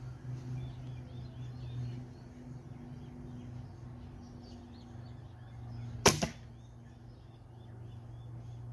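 A bare shaft arrow shot from a traditional bow strikes its target in one sharp, loud crack with a short rattle after, breaking a quiet outdoor background with faint distant birdsong.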